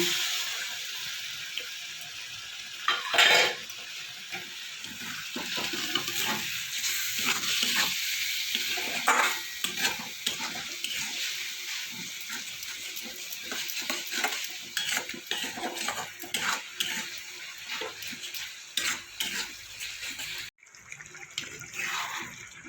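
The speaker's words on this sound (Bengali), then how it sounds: "মশলাটা ভালো করে কষিয়ে নেব" Steady sizzling of spice paste for a potato and raw papaya curry, with repeated scraping and stirring of a spoon against a pan, broadband hiss throughout, briefly dropping near the end.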